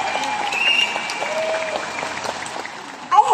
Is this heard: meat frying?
no